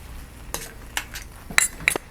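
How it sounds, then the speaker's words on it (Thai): Metal utensil scraping and clinking in a pan as curry paste is stir-fried with banana tail for a raw banana curry, a few sharp irregular clanks over a quiet background. "ใส่เครื่องไปเลยไปไปไปผัดกับหางก่อน"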